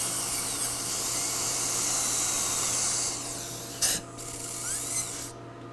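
A hard tissue laser cuts a slot into an e.max porcelain veneer on a tooth, giving a steady, close hiss with a brief sharper burst near the end, with no talking.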